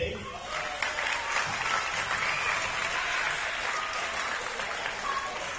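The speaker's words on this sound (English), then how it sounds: "A wonderful big round of applause for Mr. JP." Dense, sustained applause fills a room at a primary school sports awards night, many hands clapping together at an even level throughout with crowd noise mixed in.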